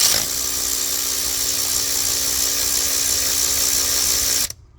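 A power tool with a Torx 45 bit removes a water pump bolt on a Mercedes ML350, giving one sustained high whirring run of about four seconds that cuts off abruptly.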